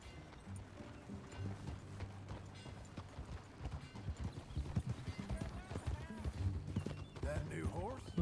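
Steady horse hoofbeats clip-clop through a Red Dead Redemption 2 game scene, layered under voices talking and ambient sounds, with a faint whinny near the end.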